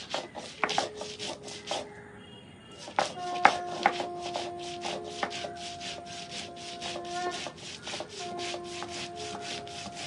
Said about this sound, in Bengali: সর্ষে কাঁচা লঙ্কা বেটে নিচ্ছি